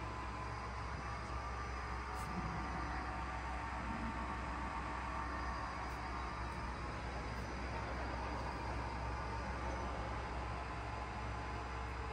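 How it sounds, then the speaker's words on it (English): Microweily TY-1860 TS lathe with a 1500 mm job length, its spindle turning at its minimum speed of 30 rpm, gives off a steady, faint broadband hum and whir that holds even and unbroken throughout, with no voices. "Working of spindle at its minimum speed, that is 30 rpm."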